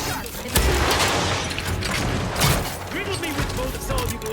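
Gunfire and mechanical clatter in the video game Outer Worlds 2, with dense bursts of shots and impacts running continuously under a voice talking over the action.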